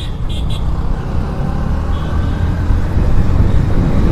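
Cars racing along a road make a steady, loud engine and tyre roar that swells slightly over four seconds, with a faint brief toot early on and no clear talk.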